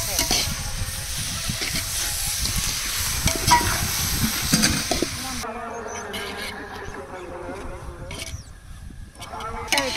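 Tomatoes sizzle steadily in hot oil while being sautéed for a pomfret (vaval meen) fish curry, a continuous close frying hiss with a brief stirring shift midway.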